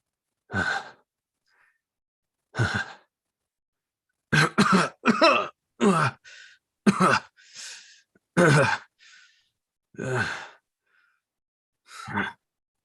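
A participant in a Dungeons & Dragons live-play session gives a string of short, separate coughs and throat-clearing bursts, about nine in all, spaced irregularly and close to the microphone, with no other sound between them.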